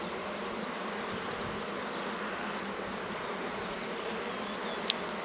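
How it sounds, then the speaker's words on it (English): Honeybees swarm around an open hive in a dense, steady drone of buzzing that holds even throughout, close and continuous. A faint tick sounds near the end. "Lots of bees, that's very good."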